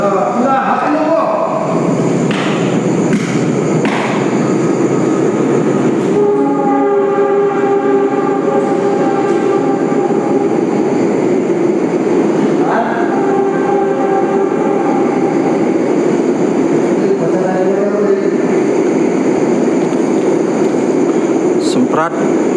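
A passenger train pulls in, its steady rumble and clatter filling the scene, with a loud horn blast and squealing brakes sounding over it while people talk nearby.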